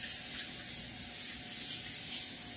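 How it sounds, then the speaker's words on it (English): Tap water runs steadily from a faucet as hands are washed in a kitchen sink while making a raw vegan cheesecake, a constant close hiss and splash with no talking. "I'm just gonna wash my hands."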